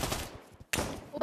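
Gunfire in the VR shooter Pavlov VR comes as two sharp, close shots separated by a short pause.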